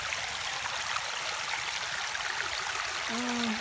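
A strong, clear, cool stream rushes steadily and loudly nearby in a dense, unbroken wash, with a brief voice-like tone near the end.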